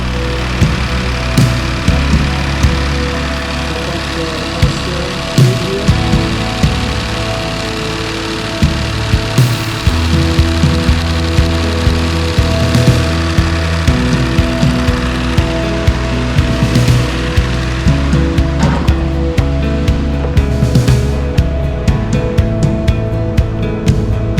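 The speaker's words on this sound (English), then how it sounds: "Engine is running smooth." A junkyard replacement engine idling in a Kia Sorento, a steady low running drone with faint regular ticking and pattering over a long stretch.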